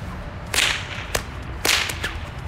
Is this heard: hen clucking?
no